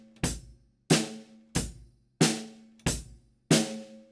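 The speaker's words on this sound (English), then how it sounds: "We've learnt a really simple drum groove," A simple drum groove played on a drum kit, six evenly spaced strikes about two-thirds of a second apart, each with a sharp attack and ringing decay, close and alone.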